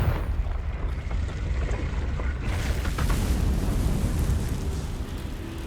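A Confringo fire spell detonates in the Hogwarts Legacy video game, a loud sustained rumbling blast that roars across the whole stretch with no talking over it.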